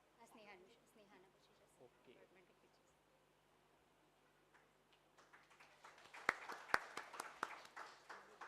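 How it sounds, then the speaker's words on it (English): Prize-winning students at an education event receive applause from the audience, beginning after faint talk and building into a few distant, scattered claps with some sharper ones, fairly quiet overall. "I want everyone to give a big round of applause for these girls"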